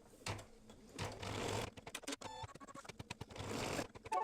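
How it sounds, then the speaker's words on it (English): An embroidery sewing machine stitches down green fabric to tack it in place, a fast mechanical rattle of needle strokes in bursts with short pauses between runs, close and fairly quiet. "So I'm going to go ahead and just stitch that down."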